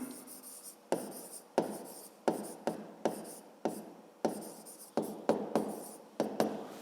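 A pen writes by hand on paper during a school math exercise: a quiet run of short scratchy strokes in an uneven rhythm, close by, with no talking.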